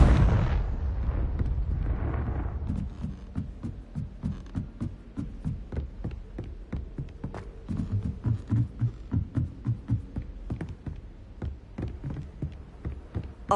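A Confringo blasting spell in the Hogwarts Legacy video game sets off a loud explosion followed by a long rumbling, crackling series of rapid bursts and pops that gradually fade.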